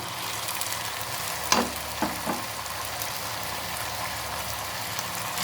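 Vegetables and pre-boiled sweet corn sizzle steadily in a pan of sauce gravy for Japanese-style chilli chicken, a soft continuous frying hiss with a few sharp stirring knocks midway, no voices.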